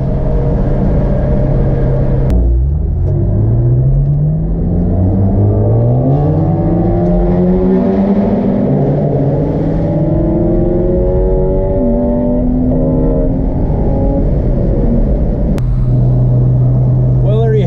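A 1998 Porsche Boxster engine revs hard while driving, its pitch climbing in repeated rising sweeps through the gears, loud and close, then settling back to a steady drone.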